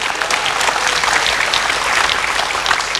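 Audience applause fills the room, dense and steady throughout at close range, with no pauses or speech breaking through.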